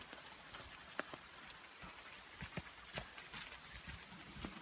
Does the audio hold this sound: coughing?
no